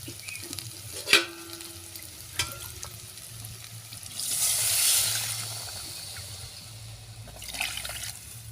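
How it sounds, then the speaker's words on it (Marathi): Water is poured into a pan of frying Shegaon-style boiled potato curry, bringing a soft sizzle and bubbling that swells midway and then settles, with a few sharp utensil clicks and a low steady hum underneath. "आता त्यामध्ये थोडं पाणी घालूया"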